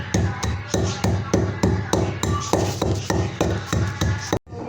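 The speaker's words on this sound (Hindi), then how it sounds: "अभी हम इन 2 चीज़ों को पीस लेंगे बारीक" Two chutney ingredients are ground finely by hand, producing a close, steady run of rhythmic pounding thuds at an even pace that ends in an abrupt cut.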